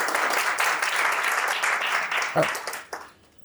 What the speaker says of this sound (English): So can we please give the team and the partners a big round of applause?